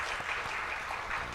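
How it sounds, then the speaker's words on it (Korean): Lively congregation applause during a Sunday church service, a brief steady burst of many hands clapping together in a hall, moderately loud with no speech over it. "우리 하나님 앞에 힘찬 영광의 박수를 올려드리겠습니다"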